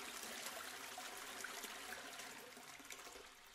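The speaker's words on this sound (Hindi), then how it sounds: "फ्लश करने की ध्वनि सुनी" A toilet flushes with a faint rushing and trickling of water that gradually tapers off, quiet and alone.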